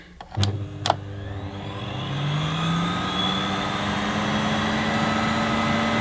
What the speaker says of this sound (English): when I switch on the cleaner, we'll start it in minimum and then go all the way up to maximum suction